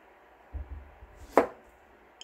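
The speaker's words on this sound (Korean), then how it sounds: "칼질을 할게요." A knife cuts a banana on a cutting board while banana juice is being prepared: soft low thuds, then a single crisp chop, close and quiet, with no speech.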